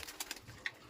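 Racing pigeons coo faintly in the distance over a soft, hissy background, with one or two brief, low calls.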